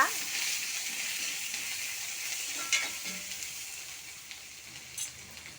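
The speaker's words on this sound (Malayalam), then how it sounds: "തേങ്ങ വറുത്തരച്ചെടുക്കുക" Grated coconut being roasted in a pan gives a close, continuous dry sizzle and hiss with occasional scraping stirs, fading slightly toward the end.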